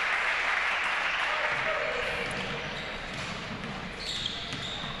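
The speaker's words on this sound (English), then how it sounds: "She'll get a nice round of applause." Applause from a crowd in a gym during a girls' high school basketball game, FCA Lady Knights against Miller Lady Falcons, rising and holding steady across the clip, with a bit of voice and court noise mixed in.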